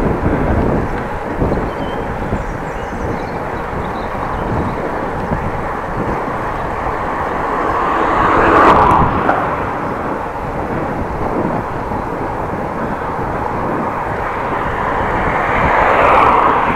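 Strong headwind roaring across the microphone while cycling along a city road in Groningen, a steady low buffeting rush with two louder gusts swelling midway and near the end.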